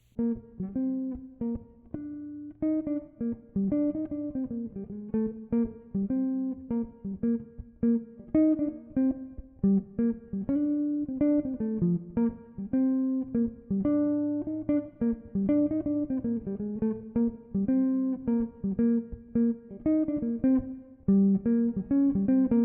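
A clean, mellow guitar plays a jazz tune, a flowing melody in 8th position with quick single notes and occasional chords, alone and at moderate volume.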